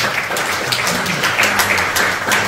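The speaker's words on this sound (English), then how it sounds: "Can we have a round of applause for our panel?" Applause from an audience at an environmental justice summit at a university, a steady dense wash of many hands clapping close and loud for the whole stretch, without a break.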